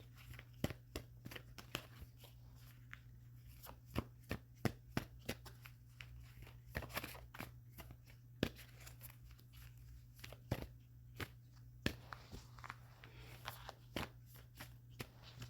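Oracle cards being shuffled and cut by hand, giving quiet, irregular papery snaps and riffles spread across the clip over a steady low hum, with no talking.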